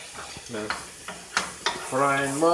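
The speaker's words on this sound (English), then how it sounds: "frying mushrooms." Mushrooms frying in oil in a pan, a soft crackling sizzle punctuated by a few quick scraping stirs, close and moderately quiet, with a brief voice at the end.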